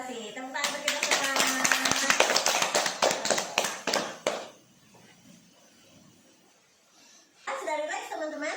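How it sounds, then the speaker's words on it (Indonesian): A small counselling group claps together in a room, a burst of fast overlapping clapping mixed with voices, a short lull of near quiet, then talk resumes. "Tepuk tangan untuk kita semua"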